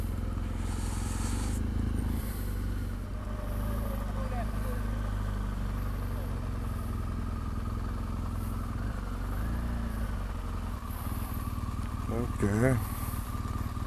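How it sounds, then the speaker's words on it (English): A motorcycle engine idles steadily in the foreground, a low continuous rumble, while a person speaks briefly over it. "so I park my motorcycle here"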